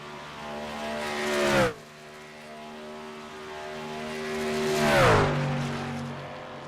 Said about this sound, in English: Doesn't sound like that truck's really wound right out.